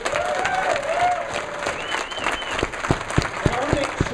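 Audience applause at the PDXLAN gaming LAN event fills the room steadily for four seconds, many hands clapping with a few whoops and voices mixed in under a sustained crowd wash.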